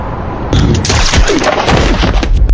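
A pistol shot in a crime thriller film scene hits with a loud, abrupt boom and then a rumbling, crackling tail lasting about two seconds.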